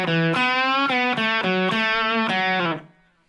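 Distorted electric guitar plays an intro riff, including a half-step bend, as a run of loud, evenly picked notes that rings clearly on its own before cutting off.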